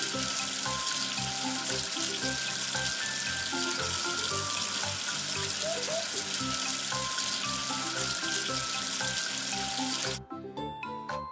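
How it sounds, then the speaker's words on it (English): Water runs from a tap to rinse away soap, a continuous splashing stream with music playing over it that stops abruptly near the end. "Wash away the soap with water."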